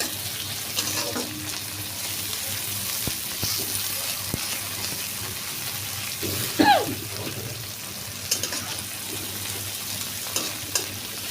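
Chopped chillies frying in a pan of oil while making mushroom curry, a steady close sizzle throughout with occasional stirring scrapes and clinks.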